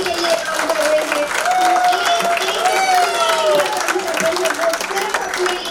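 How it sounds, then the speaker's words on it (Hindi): Applause from an audience at a gathering in Varanasi, a steady dense patter of many hands clapping throughout, with a person talking over it. "हमारे हाथों से उनके लिए बहुत बहुत जो है ना तालियां होनी चाहिए"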